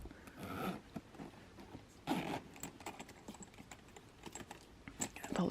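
A zipper on a makeup bag with gold hardware is pulled open in short, rasping bursts, close and fairly quiet, amid small handling rustles and clicks, with no talk.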